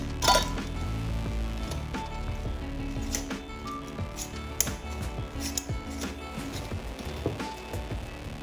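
Glass mason jar filled with vodka being closed, a metal lid clinking and tapping against the rim in a few light, close contacts over quiet room tone.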